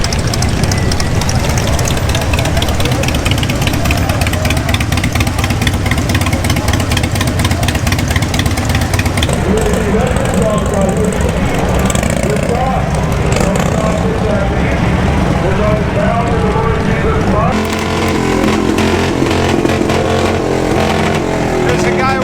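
Motorcycle engines rumble and rev at the Sturgis Motorcycle Rally in South Dakota, a loud continuous roar of idling and throttle blips amid crowd noise and voices.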